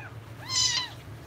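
A cat at the vet lets out a single short, clear meow, close and moderately loud over a low background hum.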